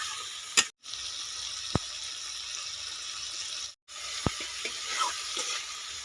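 Spiced masala with chopped tomato and salt sizzles steadily in a pan. The hiss carries bright surface crackle, is broken by two brief silent gaps, and has a couple of sharp clicks from a spoon against the pan.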